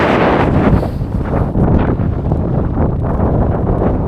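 Strong wind buffets the microphone on an open mountain summit in continuous roaring gusts, loud and close throughout, with no other sounds clearly audible.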